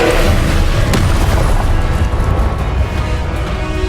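Confringo fire spell cast in Hogwarts Legacy, a loud booming blast that swells early and rolls into a dense, rumbling roar lasting several seconds.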